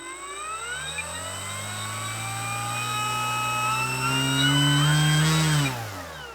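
FMS Pitts V2 1400mm RC biplane electric motor running at half throttle indoors in a confined space, a loud steady whine with strong harmonics that climbs slightly in pitch before cutting off near the end.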